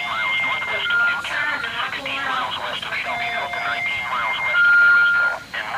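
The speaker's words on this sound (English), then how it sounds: "Yeah, I hear them sirens." Wavering outdoor warning sirens wail steadily in the distance during severe weather with high winds, rising and falling tones layered over ongoing conversation and background noise.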